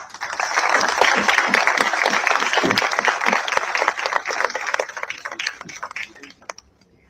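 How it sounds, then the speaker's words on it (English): Audience applause at a defence space symposium felicitation: a loud, dense burst of clapping that holds for several seconds, then thins and fades out. "Please, with a big round of applause."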